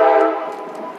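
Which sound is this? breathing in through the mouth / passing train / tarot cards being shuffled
passing train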